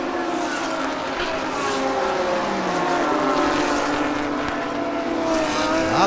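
Racing cars roar past in a Thailand Super Series race as a Lexus overtakes on the inside lane, a loud, steady blend of engines rising and falling in pitch as they pass close by, with no talk over it.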